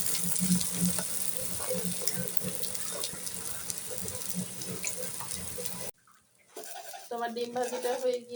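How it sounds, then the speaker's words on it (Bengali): Two eggs frying together in a pan give a steady crackling sizzle for several seconds, then a brief drop to near quiet before louder clattering and a voice return near the end. "দুইটা ডিম আমি একসাথেই ভাজি করতেছি।"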